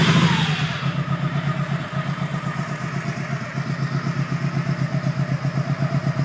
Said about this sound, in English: runs good.